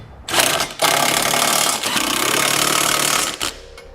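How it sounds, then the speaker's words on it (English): A ratchet with an 11/16 socket snugs flange nuts on a trailer hitch being fitted to a 2017 Ford Escape, making a loud, close mechanical whirr in about three sustained bursts separated by brief pauses. "I'm going to use an 11/16 socket to snug up my hardware."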